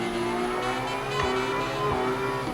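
A Toyota JZX90 beater car in the Assetto Corsa drift simulator, engine held at a steady drone and then revving up again as the throttle comes back on, with faint tire noise underneath.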